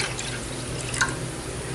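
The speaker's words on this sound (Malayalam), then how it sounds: "ആ വെള്ളമാണ് ഒഴിക്കുന്നത്." Water is poured into a cooking pot for egg biryani, a steady close splashing trickle running without pause and with no voices.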